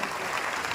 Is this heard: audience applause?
yes